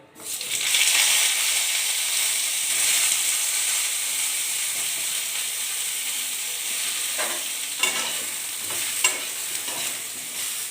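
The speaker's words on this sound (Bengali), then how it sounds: "এবার ভেজে নেব ফুলকপিগুলো" A loud, steady frying hiss of cauliflower in hot oil fills the whole stretch, with a few clinks and scrapes of stirring toward the end.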